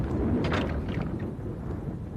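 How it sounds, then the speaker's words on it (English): Thunder from an approaching storm rolls as a low, continuous rumble with a slight swell near the start, steady and fairly loud, with no talking. "Here comes the storm."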